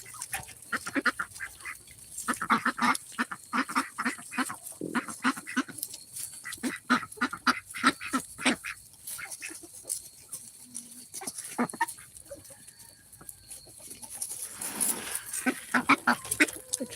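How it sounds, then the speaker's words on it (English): An Ancona duck called Angel, hand-raised and eating from a person's hand, gives repeated quacks and honks in close, irregular bursts, with softer chatter between calls and a brief flurry near the end. "This is our duck Angel."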